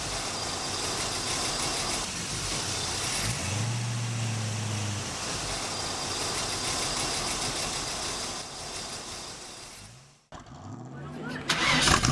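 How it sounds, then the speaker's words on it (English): A 1959 Excelsior car engine cranks and turns over near the end, brief starter and engine bursts after a steady idling rumble, with people talking over the vehicle noise. "So, John, would you like to lift up the hood and let us take a look at that engine, please?"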